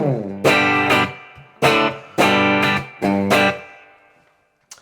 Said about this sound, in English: I just tend to like a plate reverb because it just sounds the best in my ears